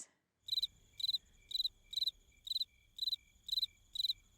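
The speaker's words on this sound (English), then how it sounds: "Where are these freaking crickets?" Crickets chirp in a steady, evenly spaced rhythm of pulsed trills, about two per second, clear against a quiet low rumble.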